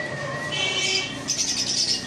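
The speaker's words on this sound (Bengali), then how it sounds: "কনুর আছে বন্ধুরা, কনুর পাখি আছে" Pet conure parrots squawk in short, shrill bursts close by, layered over a chattering background of many other caged birds.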